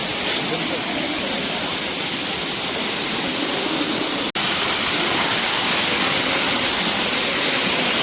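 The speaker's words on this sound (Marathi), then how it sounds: "तर हळूहळू खाली पाणी पडतं इथं" A waterfall at Pavankhind near Kolhapur roars continuously, loud and close, broken only by one brief dropout midway.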